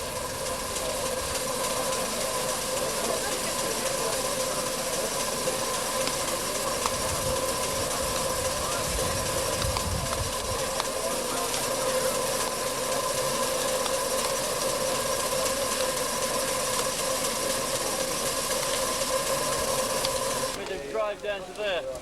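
A steam engine sits getting steam up at an outdoor rally, giving a steady hiss and low mechanical hum throughout, with a sharper clatter near the end.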